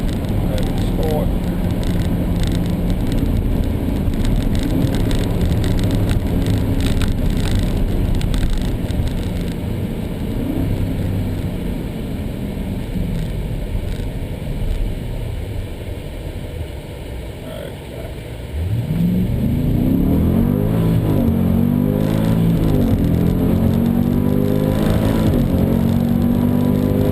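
A supercharged 2014 Jeep SRT8 Grand Cherokee with a seven-speed automatic pulls hard in sport mode, its engine roaring loudly and climbing in pitch, then dropping briefly at an upshift before rising again.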